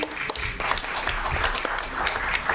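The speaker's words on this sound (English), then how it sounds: "Give them a round of applause." Applause at a school board governing meeting: a moderate, steady patter of clapping from a modest audience, even in level throughout and heard without speech.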